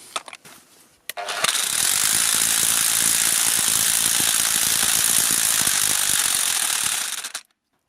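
A cordless brushless 20V impact wrench rated 1800 Nm starts after a few quiet clicks and hammers loudly and steadily for about six seconds with a dense rattling chatter, then stops abruptly.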